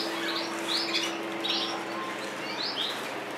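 A Gloster canary gives several short, bright chirps in quick bursts over a steady low background hum, fairly close and without speech.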